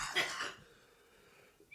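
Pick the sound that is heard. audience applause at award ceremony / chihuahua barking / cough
cough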